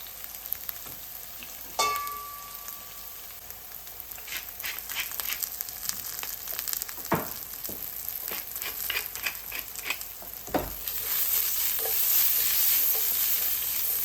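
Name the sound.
onions cooking in a pan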